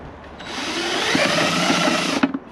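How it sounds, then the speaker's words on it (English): A step drill bores drainage holes through a plastic bucket, a close, whirring power-tool drone that rises, holds for about two seconds with faint crunching bites, then cuts off. "The step drill is ideal for this."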